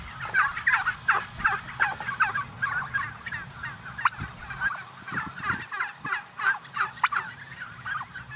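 A flock of farm turkeys gobbling continuously in overlapping bursts, loud and close, with no voices.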